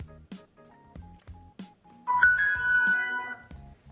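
Alfawise BT200 Bluetooth soundbar powering on: a few soft clicks followed by a short electronic startup chime of tonal beeps, close and clear with no talk.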